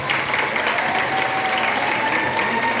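An audience at a Creole culture day at a school applauds for Madame Cassandre, dense continuous clapping from a crowd filling the space at steady loudness, with a faint tone running underneath.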